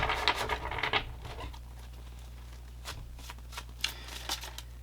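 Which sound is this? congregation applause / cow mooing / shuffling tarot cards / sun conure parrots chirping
shuffling tarot cards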